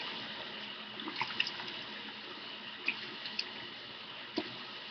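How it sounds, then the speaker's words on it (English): Water running and splashing close by as a face mask is rinsed off skin at a sink, a soft steady flow broken by a few small splashes and drips. "You just want to get in there and rinse it all off."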